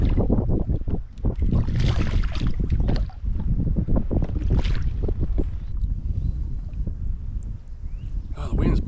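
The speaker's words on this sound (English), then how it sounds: "Oh, the wind's blowing me around" Strong wind buffets the microphone on a river during bass fishing from a boat, a continuous loud rumbling roar with gusty swells throughout, with water and boat noises beneath.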